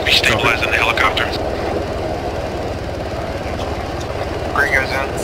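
Helicopter rotors throb in a steady, loud, low pulsing beat during a pararescue casualty evacuation, with shouted voices over the engine noise throughout.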